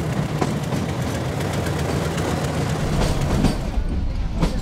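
Indian Railways train on the climb toward Patalpani, with a lead locomotive and a banker locomotive coupled behind, giving a loud, continuous low engine rumble and rolling noise throughout.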